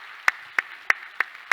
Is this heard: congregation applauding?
yes